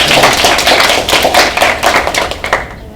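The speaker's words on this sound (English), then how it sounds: "round of applause for Joy" Attendees at a school board work session applaud a colleague, a loud close spatter of individual claps from a modest group that thins out and fades near the end.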